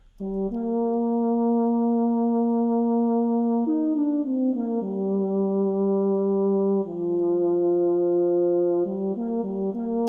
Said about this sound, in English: It was a French horn